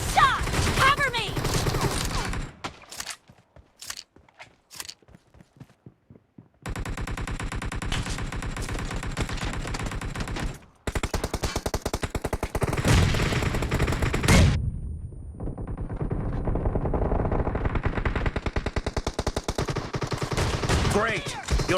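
Shotgun fire in the mobile game PUBG Mobile during a fast team deathmatch: sharp single blasts and rapid volleys, loud and near, separated by brief gaps and busy game noise.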